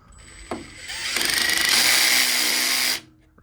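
A power tool runs steadily for about two seconds, tightening battery connections on a Solis inverter, with a sharp knock just before it starts and a quick cut-off at the end, close and loud.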